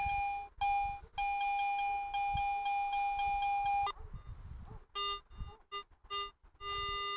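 Steady electronic beeping tone from a Garrett metal detector, a sustained pitch broken by short gaps, then a choppier series of stuttering beeps near the end.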